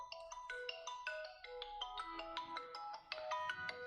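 A mobile phone ringtone plays a bright, repeating electronic melody of quick stepped notes, steady and fairly loud, heard alone without talk.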